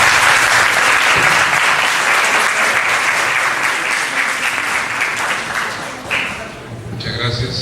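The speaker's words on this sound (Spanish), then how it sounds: "Un aplauso para los doctores, por favor" An audience at a primary health care panel applauds the doctors with loud, sustained clapping that dips briefly near the end, and a voice comes in over it.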